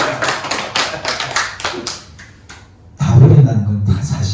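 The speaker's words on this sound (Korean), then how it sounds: "박수 한번 주세요. 박수." A church congregation breaks into applause during a sermon, a burst of close, overlapping hand claps that swells louder near the end, with faint voices mixed in.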